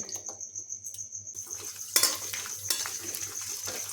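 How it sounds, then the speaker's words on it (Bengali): Grated coconut frying in hot ghee in a wok, with a steady sizzle, light stirring and a few clinks of utensil against metal, heard close and alone. "ঘিটা গরম হলে তাতে অল্প নারকেল কুচি ভেজে নিচ্ছি"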